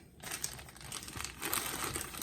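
A plastic bag is crinkled close by, giving continuous dense crackling and rustling that swells and eases for a couple of seconds with no voices.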